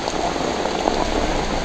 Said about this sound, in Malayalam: മഴ ഇപ്പോൾ ചെറുതായിട്ട് ഇങ്ങനെ പെയ്ത് വരികയാണ്.